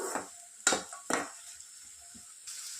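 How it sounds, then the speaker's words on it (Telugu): Onions frying in a pan for a village-style chicken curry, with a soft steady sizzle broken by a few sharp scraping stirs of a spatula, close and fairly quiet with no talking. "సో ఆనియన్స్ బాగా మంచి బ్రౌన్ కలర్లో వచ్చేంత వరకు ఫ్రై చేసుకోవాలి"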